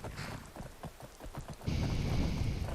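Rain from a thunderstorm in the video game Skyrim, first as scattered patter with low rumbles, then a sudden, steady heavier downpour that swells and keeps going.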